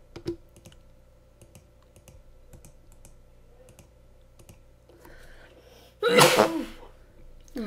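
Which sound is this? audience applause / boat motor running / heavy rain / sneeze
sneeze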